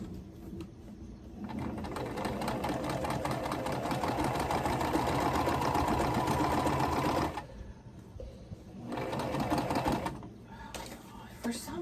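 Sewing machine stitching quilt pieces for a Coriander Cascade quilt, running in long steady bursts of rapid mechanical whirring with brief pauses between, close and fairly loud.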